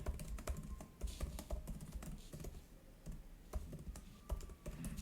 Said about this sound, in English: You can type on the note.